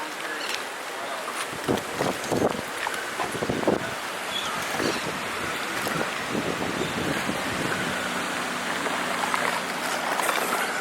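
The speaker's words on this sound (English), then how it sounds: "And the wind's a minor thing right now" Storm wind gusts and roars steadily around an outdoor microphone, buffeting it with constant rushing noise and uneven low thumps, while rain-soaked surroundings add a broad hiss throughout.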